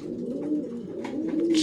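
A racing pigeon back from a 970 km race from Brussels coos in low, steady murmurs close by, with a brief brighter rustle near the end.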